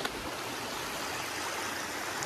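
A small, clear stream runs down from the Jaraguá mountains in Goiás, giving a steady close rushing and burbling of water that stays continuous and even.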